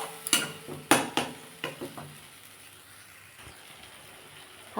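A spoon stirs curd cauliflower curry in a pan with a series of sharp scraping clinks against the metal, bunched early and then thinning out over a faint background simmer.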